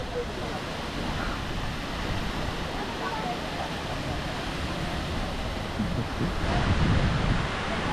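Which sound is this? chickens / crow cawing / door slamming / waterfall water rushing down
waterfall water rushing down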